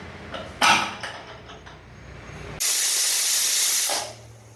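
A pressure cooker vents steam in loud hissing bursts: a short sharp blast, quieter hiss, then a long sustained whistle that cuts off abruptly.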